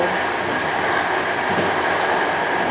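EIC Kaszub passenger train rolling into Ciechanów station, a loud, steady rumble of wheels and carriages heard close and continuous throughout.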